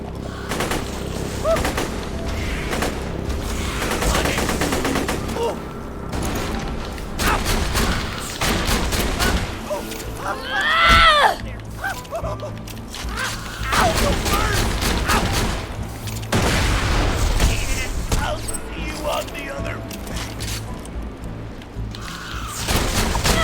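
Proton blast weapon firing in a video game, a dense barrage of loud gunfire-like bursts and booms running throughout, with mechanical clatter and speech layered over the action.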